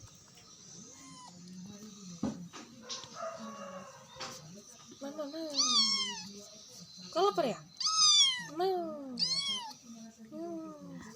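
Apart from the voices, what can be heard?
cats meowing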